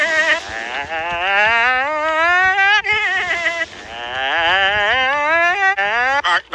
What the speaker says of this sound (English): Somebody emailed me a video of a sheep screaming.